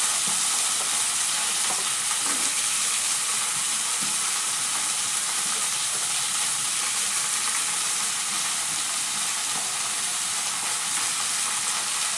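Chopped radish leaves stir-frying in a pan with roasted chilies, a steady, bright sizzle and hiss running continuously, with faint stirring scrapes underneath and no talking.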